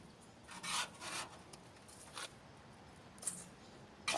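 Metal scraper and rake grind carbon buildup from inside a smoker, with rough rasping strokes in uneven bursts, fairly close and moderately quiet, without talking.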